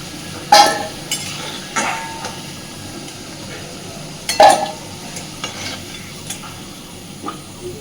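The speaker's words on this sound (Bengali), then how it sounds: "দেখুন আমি আলুগুলোকে সুন্দরভাবে ভেজে নিয়েছি এবার এই ভেজে নেওয়া আলুগুলো সব তুলে নেব" Potatoes being stirred in frying oil and lifted out with a metal utensil. There are occasional sharp clinks and scrapes over a soft, steady sizzle.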